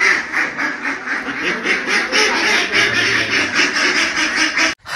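Domestic ducks quack continuously at close range, a dense chorus of rapid, raspy calls over about five seconds that stays loud and fairly constant before a brief drop near the end.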